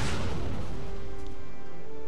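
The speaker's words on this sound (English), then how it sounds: "Launch a proton torpedo!" A proton torpedo launched in Clone Wars Adventures, a deep booming blast at the very start that fades into a long rumbling tail over a steady engine hum.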